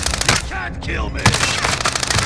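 Rapid automatic gunfire in Call of Duty: Warzone on Rebirth Island, loud bursts of shots crackling back to back over constant game noise, with a voice cutting in briefly.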